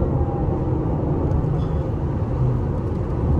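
A 2024 Skoda Superb 1.5 eTSI car accelerating toward high speed, its steady engine drone and road rumble filling the cabin continuously and loudly throughout.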